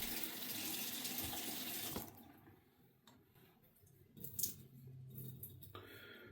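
Water runs from a tap onto a shaving brush for about two seconds, a steady close hiss that then cuts off, followed by quieter wet handling noises, brief splashes and drips.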